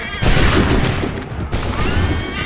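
A volley of musket fire crashes out in a battle in Assassin's Creed 3, two loud booming bursts with rumbling echoes, close and dense.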